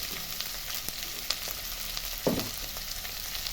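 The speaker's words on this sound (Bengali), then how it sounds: "এগুলোকে আমি সব হালকা ফ্রাই করে নেব।" Ginger and chopped capsicum lightly frying in a pan, a steady soft sizzle with a brief louder stir or clatter midway, no talking.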